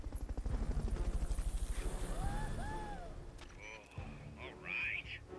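Rotor thump of a Fulton recovery helicopter in the video game Metal Gear Solid, a steady rapid chopping pulse up front that fades, followed by game effects and scattered sounds, with voices talking over it.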